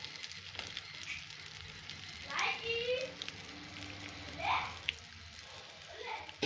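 Curry sizzles and fries steadily in a pan after chili powder is added, a soft continuous crackle under a woman's speech, with brief stirring scrapes.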